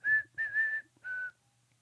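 A person whistles a short tune alone, three clear melodic phrases with brief pauses between them, fairly quiet and close.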